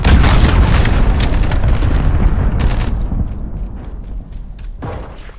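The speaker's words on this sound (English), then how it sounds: "Enemy cruise missile incoming," A cruise missile explodes in Call of Duty Modern Warfare, heard as a loud, close, broadband boom whose rumble and crackling debris bursts roll on and gradually fade over several seconds, with no talking.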